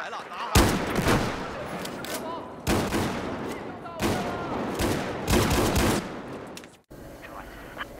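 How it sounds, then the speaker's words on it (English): Shotgun fire in Battlefield 4, loud blasts repeating every second or two with booming tails and game ambience between shots, ending with a quieter stretch. "It's fun to use with a screen literally shaking apart when you fire the shotgun"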